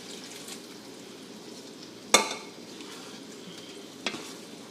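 Dirty rice is stirred in a pan, a soft low sizzle running underneath while a spoon scrapes sharply against the pan twice, the first knock louder than the second.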